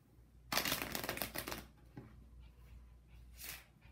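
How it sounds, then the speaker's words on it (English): Standard 52-card deck being shuffled, a dense burst of riffling and flicking for about a second, then softer scattered card handling, close and alone with no talk. "Now I'm going to shuffle these cards."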